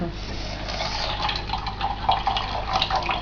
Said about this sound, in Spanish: se cayó toda agua